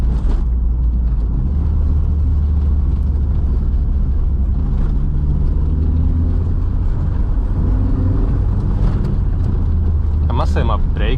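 A K-swapped Honda Jazz is driven hard up the Red Hill Road mountain pass. The engine drones loudly and steadily throughout, with the pitch rising and falling, while people talk over it inside the car.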